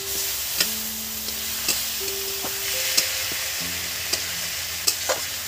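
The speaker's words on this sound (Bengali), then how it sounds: "অল্প একটু তিল ধোয়া জল দিয়ে দিচ্ছি মশলাটা যাতে না পুড়ে" Spice paste sizzles softly in a pan after a splash of sesame-rinsed water is added for a mutton-fat soybean curry, with scattered stirring clicks and scrapes over steady background tones.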